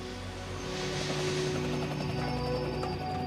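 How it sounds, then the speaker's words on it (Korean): Helicopter flying between gold mines and a refinery in South Africa, a steady droning rotor and engine hum that stays loud and continuous throughout, with no voices. "남아공에서는 이런 헬기들이 광산과 정제소를 끊임없이 오고 가면서"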